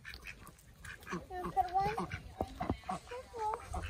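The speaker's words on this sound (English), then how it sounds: "Those are the nice ducks." Ducks quack several times at close range on an outdoor family outing, with brief nasal calls spread through a few seconds while people talk nearby.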